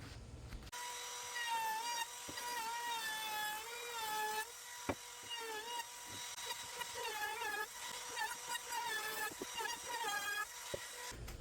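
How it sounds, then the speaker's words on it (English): A hand router cuts chamfers along the edges of wooden legs and frame pieces for a console table, producing a continuous high motor whine that wavers in pitch as it moves along the wood. "we just might just grab the hand router and just route our chamfers on each edge here, on the legs and on the frame pieces"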